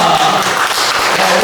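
A church congregation claps together, a dense, continuous burst of applause close by that lasts the whole short moment.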